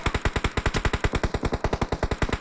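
Rapid automatic gunfire spray in the mobile game BGMI, a steady string of about thirty close, loud shots at even rhythm with no talking.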